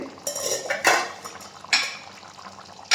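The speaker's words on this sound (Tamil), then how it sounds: "ஒரு டம்ளர் அளவுக்கு தண்ணி ஊற்றிக்கிறோம்" Water from a tumbler poured into a pan of Hyderabad-style chicken gravy, with clinks of utensils against the pot and a splashing pour midway, close and fairly loud, no talking.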